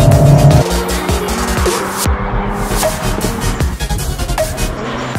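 Alpine A110 sports car engine pulling hard while driving, its intake pulses piped into the cabin through a membrane; a loud, close, continuous engine note with rising and falling tones and brief tire-like squeals, no talk.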